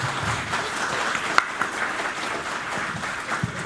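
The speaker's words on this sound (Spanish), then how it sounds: "Les pido un aplauso para nuestro ponente del día de hoy." Lecture audience gives the day's speaker a round of applause, a moderate, fairly distant wash of clapping in a hall, with a couple of sharper claps standing out.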